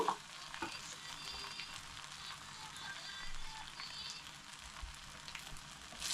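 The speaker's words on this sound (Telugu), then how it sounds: "అన్నం అంతా కొంచెం కలుపుతున్నాం రైస్ మొత్తము." Capsicum rice is stirred and tossed in a pan, with a soft sizzle under scraping, shuffling stirring sounds that come in uneven bursts, fairly quiet and close.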